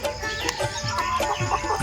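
Tiger breed chickens on a poultry farm cluck in quick, short bursts, several birds close together and fairly loud, with a constant barn-like background.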